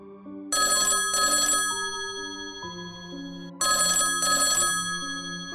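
A telephone rings in two double-burst rings separated by a pause, bright and clear with a steady tone underneath, no talking.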